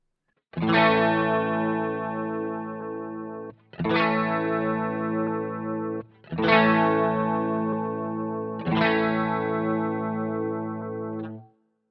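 Four sustained electric guitar chords played through a Boss GT-1 multi-effects patch with the effects level set to 40, each ringing for about three seconds with a slight modulated, distorted shimmer before being cut off.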